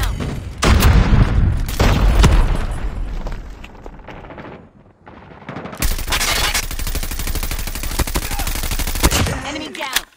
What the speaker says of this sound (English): Sentry gun ready for deployment. Sentry gun deployed.